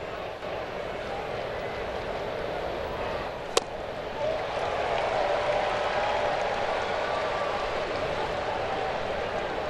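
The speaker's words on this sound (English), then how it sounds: "It is quite the nice crowd." A baseball stadium crowd during a Phillies–Nationals regular-season game gives a steady, distant roar of applause and cheering, swelling slightly partway through, with one sharp crack standing out early.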